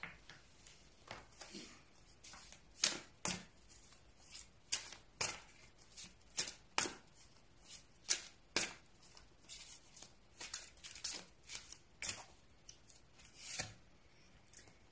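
Oracle cards shuffled by hand for a tarot reading, a series of crisp, irregular riffling and slapping bursts close up, repeated many times with short pauses, no talking.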